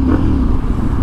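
A motorcycle fitted with a manual cruise control device hums with a loud, steady low engine drone, close by, without any talking.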